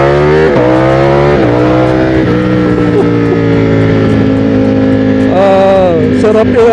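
A Streetfighter motorcycle fitted with clip-on handlebars revs hard and accelerates, its loud close engine note climbing through repeated gear-like steps with no talk over it.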